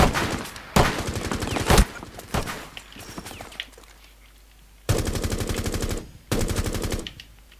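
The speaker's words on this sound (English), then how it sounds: "I'm going to do this with a fucking pistol" Pistol fire in Rainbow Six Siege Terrorist Hunt comes in several loud, rapid volleys of shots, separated by quieter gaps with faint movement sounds.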